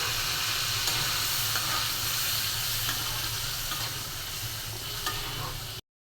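Beef brain frying with spices in a pan, a loud continuous hissing sizzle with a low hum underneath and occasional faint clinks, heard up close until it cuts off abruptly near the end, with no voices.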